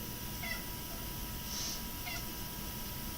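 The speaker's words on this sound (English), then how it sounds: "Ignore the cat." A cat meows twice, with a short pause between the calls, against steady background noise during an early-morning tai chi session.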